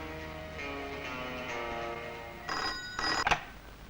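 A telephone rings with a bright electronic tone, a steady ringing that grows louder in short bursts toward the end, with no voices.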